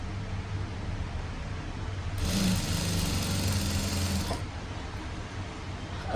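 A sewing machine stitches a blouse lining in one burst of about two seconds, a fast whirring hum over a quiet room background, starting and stopping cleanly.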